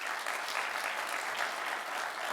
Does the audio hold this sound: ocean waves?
no